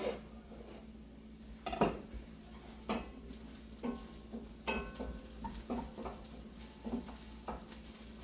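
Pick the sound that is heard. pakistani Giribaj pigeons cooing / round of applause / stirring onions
stirring onions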